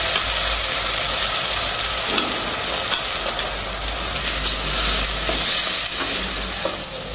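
Onion and ground paste sautéing in oil in a pan on low heat for mint rice, a loud continuous sizzle and hiss with occasional stirring scrapes, close and without talk.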